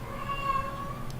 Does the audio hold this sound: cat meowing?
yes